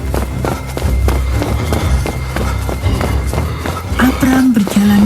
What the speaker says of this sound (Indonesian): Dia dapat melihat ada seorang sedang berlari ke arahnya.